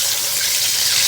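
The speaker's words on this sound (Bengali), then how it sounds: "দেবো জল" Water streams continuously into a pan for a brief moment, giving a bright, close, steady pour with no talk, during the preparation of dhokla.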